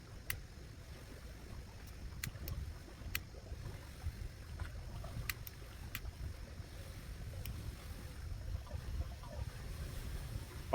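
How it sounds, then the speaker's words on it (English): Outdoor wind rumbles low and steady while a cigar is being lit at a convention gathering, with a few faint sharp clicks scattered through it, quiet and continuous, and no talk. "Apologizing, this wind is a little tricky."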